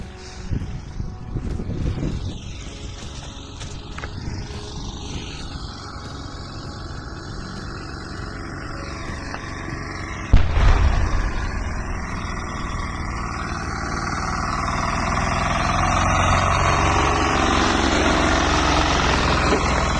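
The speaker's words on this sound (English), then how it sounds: "a walking tractor with a trolley to transport goods and personnel" A walking tractor (motoblock) pulling a trolley that carries goods and personnel near a front line, its engine running steadily throughout and growing noticeably louder and closer about halfway through.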